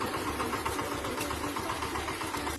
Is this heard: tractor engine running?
yes